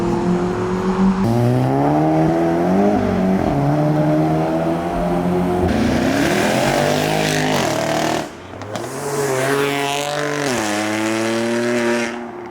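Modified cars pulling away from a car meet, engines revving loudly and climbing through the gears, one after another passing close with sharp rises and a brief lull before the next car accelerates away.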